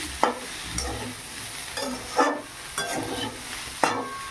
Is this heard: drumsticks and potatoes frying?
yes